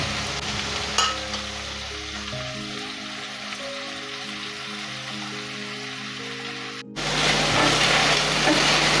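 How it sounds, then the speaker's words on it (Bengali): Shrimp frying in mustard oil with salt and a little turmeric in a kadai, a steady close sizzle with faint crackles. It cuts off abruptly near the end and gives way to a brighter burst of hiss. "এবার চিংড়ি মাছগুলোকে নুন আর সামান্য হলুদ দিয়ে হালকা করে ভেজে নেব"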